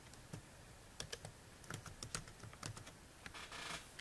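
Keys clatter on a computer keyboard while a name is entered in a development software field, a close run of irregular light clicks with a short faster burst near the end, no voices.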